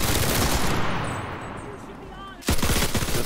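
Bursts of M2 carbine fire from AI gunners in the video game Enlisted, loud rapid shots at the start, fading briefly, then a fresh close burst near the end.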